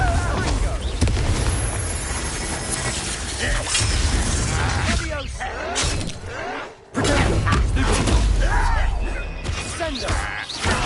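Confringo spell explosions in Hogwarts Legacy burst repeatedly amid dense combat noise: booming blasts and crackling debris, loud and continuous, with a brief dip near the middle before the chaos resumes, with voices in the fray.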